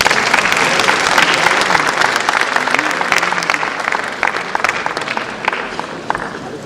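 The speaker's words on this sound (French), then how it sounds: "Sous vos applaudissements." A conference audience applauds, dense loud clapping from a large crowd that holds steady and then thins out slightly near the end.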